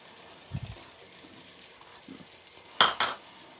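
Canned butter beans stirred into a soft pumpkin stew, with a few soft thick clunks of a spoon in the pot and two sharper wet scrapes near the end over faint background hiss.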